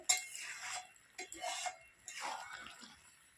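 Rice flour being stirred into cooked bottle gourd in a pan, soft intermittent scraping and light clinks of a spoon against the metal, quiet and close with pauses between strokes.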